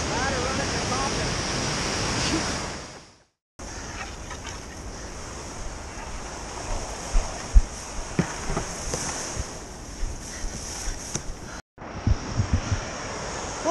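A large waterfall roars on the Magpie River during a first descent by paddlers, a steady broad rushing wash heard from some distance, with a few brief knocks and interruptions.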